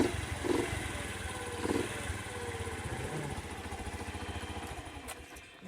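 Honda Super Cub motorcycle engine catching, then settling into a soft, even putter at idle, with a couple of brief revs early on, heard quietly from nearby.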